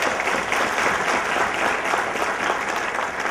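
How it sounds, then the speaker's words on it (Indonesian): Audience in a hall clapping for a guest speaker at a seminar, a dense, continuous patter of many hands held at an even level throughout. "Tepuk tangan untuk beliau."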